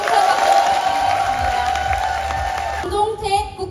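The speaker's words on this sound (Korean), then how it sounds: "우리 두 번째 순서로 멋진 연설해주신 이혜옥 대표님께 힘찬박수" A crowd at a public rally for a Korean community self-governance law applauds and cheers a speaker, a steady wash of clapping that carries on with a faint hum and then thins out near the end.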